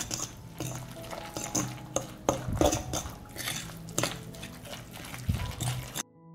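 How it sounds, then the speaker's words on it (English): A spoon stirring food in a pot seasoned with dry organic seasoning, scraping and clinking against the metal in irregular close bursts with light liquid sounds. "I'll stir."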